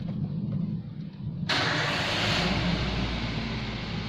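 A car engine cranks and fires up partway through, jumping from a quiet background to a loud, steady running roar that continues to the end, during a diagnostic check of a throttle position sensor fault (code P0120).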